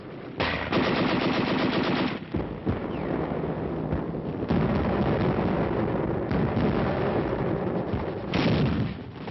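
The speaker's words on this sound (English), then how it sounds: "Despite heavy enemy fire, the first wave swarmed ashore with timetable precision." Heavy machine-gun and artillery fire crackle and boom during a WWII beach landing, with rapid continuous bursts and blasts filling the clip, loud and dense with no talking.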